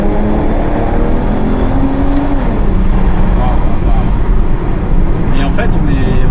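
An Aston Martin V12, a DBS or V12 Vantage S, growls steadily from inside the moving car with a window slightly open, a deep engine rumble mixed with road noise under someone talking.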